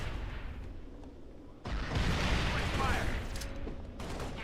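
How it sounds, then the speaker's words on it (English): A grenade thrown and exploding in Halo: Spartan Assault erupts in a loud, broad burst of noise that lingers as rumbling gunfire-like din, with a player's voice talking over it. "Okay, that's how you throw a grenade"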